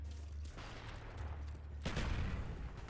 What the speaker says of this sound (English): Anytime I heard a shotgun or an explosion,